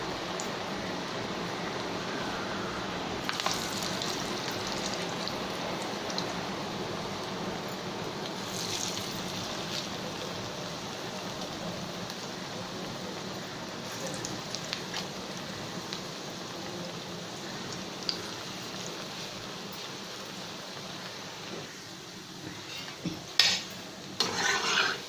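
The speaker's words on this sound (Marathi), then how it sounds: "यांना सावकाश सिम गॅसवर हळूहळू आतपर्यंत शेकतील अशी शेकून घ्यायची आहे." Chana dal pakodas made with besan, onion and coriander fry slowly in oil over a low gas flame, giving a steady, even sizzle throughout with occasional louder pops and spatters near the end.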